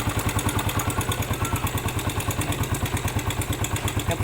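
A motorcycle engine idles after carburetor tuning, close and loud, with a fast, regular putter and a slight clatter.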